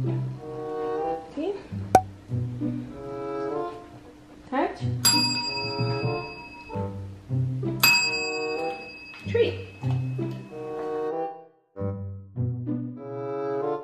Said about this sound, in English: Ring the bell. You get a treat.